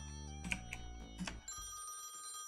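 A telephone rings in the typing-exorcism game The Textorcist, a bright electronic bell tone repeating in short bursts over a bed of game music, fairly loud and close with no talking.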